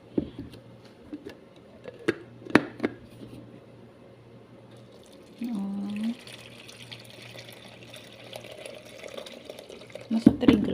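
Tap water runs into a pot for cooking macaroni for an Arabian-style dish, a steady mid-level splash lasting a few seconds amid kitchen clatter and knocks, with louder bumps near the end.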